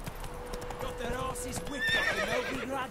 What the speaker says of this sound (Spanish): Salta caballo.